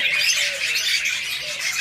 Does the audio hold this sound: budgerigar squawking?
yes